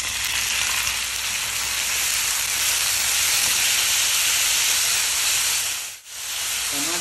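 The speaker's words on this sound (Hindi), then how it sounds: "तीन चार कटे हुए बारीक टमाटर डाल देंगे।" Chopped tomatoes and garlic-ginger paste frying in a pan for a cashew curry give a steady, loud hiss and sizzle throughout, with a brief dip near the end.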